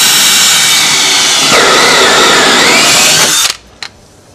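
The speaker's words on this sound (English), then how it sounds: "To finish off, I'm going to use the counterbore and plug." Counterbore tool drilling into the edge of a deck board, a loud steady high-pitched power-drill whine for about three and a half seconds, its pitch dipping briefly under load midway, then cutting off abruptly with a faint tap after.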